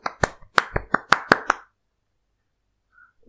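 Applause in the video game Undertale Yellow: a short run of about eight sharp, separate hand claps with a slightly stylized, plopping quality, then near silence with a faint tone.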